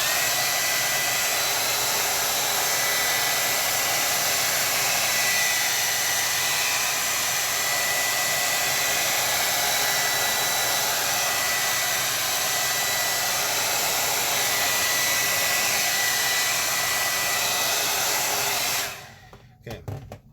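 Hair dryer blowing steadily over damp Bockingford watercolor paper, a loud continuous whooshing roar held for about nineteen seconds before cutting off abruptly, followed by faint handling noise.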